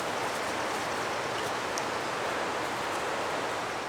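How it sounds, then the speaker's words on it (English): A gentle river in the Cranberry Wilderness of West Virginia gives off a steady, even rush of water that runs unbroken throughout, with no voices present. "Then you can hear the river over there."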